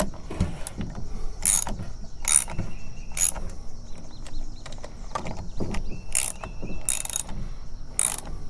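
Tightening the carburetor on a 22-year-old Poulan Wild Thing 40cc chainsaw with an 18-inch bar, a series of close, crisp ratcheting clicks in short, irregular bursts.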